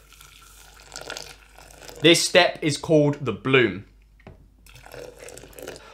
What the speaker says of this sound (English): pour about half of your hot water evenly over the grounds